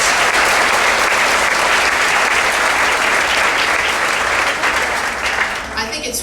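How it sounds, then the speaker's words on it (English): Loud, dense audience applause at a Girls State opening session in West Virginia, a crowd clapping hard and continuously before tapering off at the very end. "So West Virginia, let's give ourselves a round of applause."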